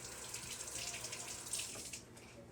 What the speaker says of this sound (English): Rinse them real quick again.